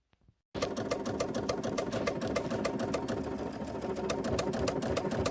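A sewing machine stitching a baby quilt starts abruptly after a brief silence, then runs steadily with a fast, even mechanical clatter close by and no talking.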